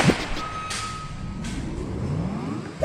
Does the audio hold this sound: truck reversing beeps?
yes